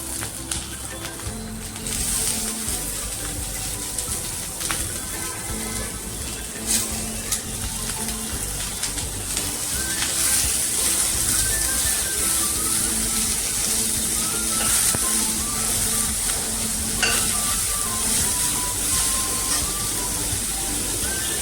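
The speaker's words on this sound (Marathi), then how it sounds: "आता आपण कांदा टाकूया" Chopped onion goes into a small amount of hot oil for a home-style leafy cowpea (chavli) vegetable dish, giving a steady, crackling sizzle that runs throughout with faint tonal sounds in the background.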